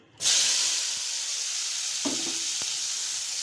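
A brinjal mixture drops into hot oil in a pan and erupts in a sudden loud sizzle. The sizzle holds as a steady, close hiss, with a couple of faint clinks from stirring and no voices.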